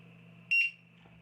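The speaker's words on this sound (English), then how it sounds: "a short beep for disarming the system" A Matek F405 Wing flight controller on a bench gives a single short, sharp electronic beep as it disarms. A faint steady hum continues before and after the beep.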